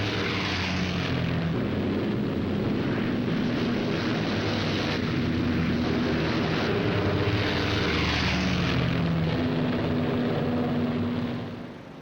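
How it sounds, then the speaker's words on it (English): Boeing B-17 Flying Fortress World War II bomber: a continuous, dense droning roar of multiple propeller engines with a slow pulsing beat, loud and steady before fading slightly at the end. "flying perhaps the best known of all American warplanes, the Boeing B-17 Flying Fortress"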